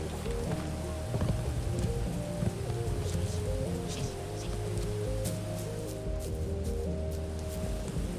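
Steady rain falls across a video game world near Flavor Falls, a constant wash of patter with scattered drop hits, heard under game music and ambient tones throughout.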